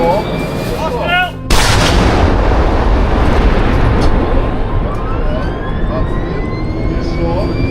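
A single loud shot fired in combat in the Russia–Ukraine war, a sharp blast followed by a long rolling rumble and echo, after faint whistling sounds; no talk in the clip.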